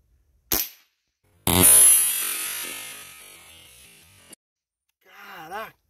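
A Rossi R8 air rifle fires its last shot: a sharp crack, then a longer, louder noisy burst that slowly fades, followed by a brief voice at the end.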